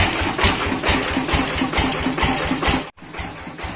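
An old tractor engine runs close by, a loud chugging idle with steady rapid firing pulses and a brief dip near the end.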